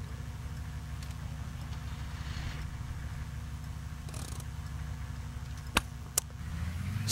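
A car engine in the Jalopy video game churns and rumbles low and steady without catching, with two sharp clicks near the end and a slight rise in the drone just after.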